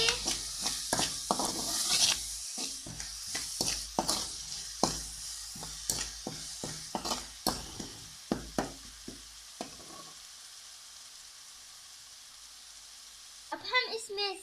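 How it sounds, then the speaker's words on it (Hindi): Red chili and salan masala spices fry in a pan for a spicy vegetable seviyan, with a run of brisk spoon scrapes and clacks over a soft sizzle that then settles into a quieter hiss. "सूर्ख मिर्च, सालन मसाला और सूर्ख मिर्च। अब हम इसे भूनेंगे।"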